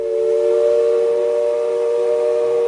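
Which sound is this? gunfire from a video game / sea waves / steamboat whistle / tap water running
steamboat whistle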